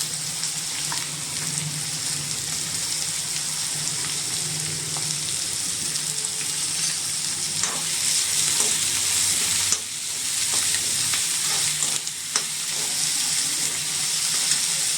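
Onion and garlic sauté in a pan for tomato thokku, a steady close sizzle with occasional stirring scrapes throughout, and no talking.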